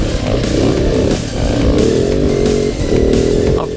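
A Swedish 570cc big-bore single-cylinder enduro motorcycle revs hard on a cross-training track, its loud, close engine note rising and falling in sustained throttle bursts with brief dips between pulls.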